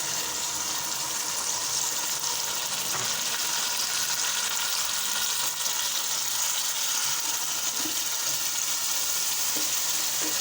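Nuts simmer in a pan with sugar and milk over a low flame, a loud, dense, continuous sizzle and bubbling, close up, with faint occasional stirring and no voices.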